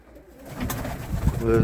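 Rostoczańskie wysokolotne pigeons coo softly inside a loft, a short low burble rising toward the end, close by with a little background noise.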